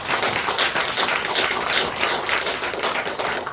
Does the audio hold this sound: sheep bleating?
no